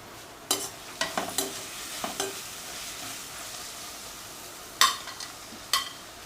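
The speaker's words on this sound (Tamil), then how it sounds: "இப்போ அது கூட நம்ம கட் பண்ணி வச்சுருக்கிற தக்காளியை சேர்த்துக்கலாம்" Tomatoes sauté in a pan with ginger garlic paste, a soft sizzle broken by several sharp scraping stirs of a spoon in short bursts, close by with no talking.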